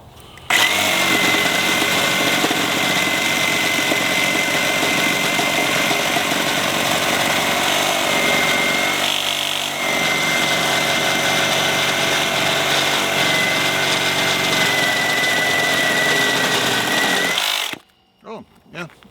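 A Milwaukee reciprocating saw fitted with a hatchet blade cuts through a 4.5-inch-thick piece of wood, a loud, steady, close buzzing roar that runs for about seventeen seconds before stopping abruptly.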